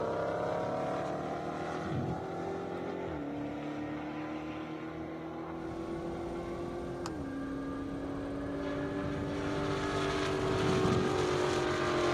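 Two drag race vehicles launch side by side at an airstrip race, engines droning steadily with rising, shifting pitch, heard from a distance for several seconds.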